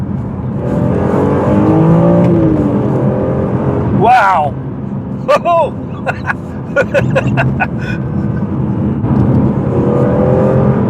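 BMW E46 M3 on a road test, its engine revving hard and accelerating in bursts with gear changes, loud and close from inside the car, while someone talks and exclaims over it.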